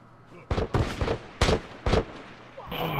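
Gunfire in The Last of Us multiplayer on the Lakeside map, five sharp shots in quick uneven succession, loud and close over quiet background ambience.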